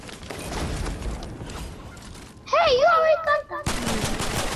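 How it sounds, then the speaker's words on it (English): Gunfire in the Fortnite video game, with bursts of shots and mechanical clatter mixed into game noise, plus a brief whistling, warbling tone midway; moderately loud and busy throughout. "People are shooting at us."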